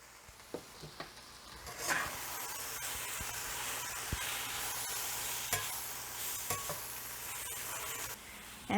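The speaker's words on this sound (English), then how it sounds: "We're gonna finish frying those up in the skillet" Spiced chicken sizzles steadily in a skillet, seasoned with oregano, paprika, cumin and chili powder, while a utensil occasionally stirs and scrapes through the pan; close and continuous, with no voices.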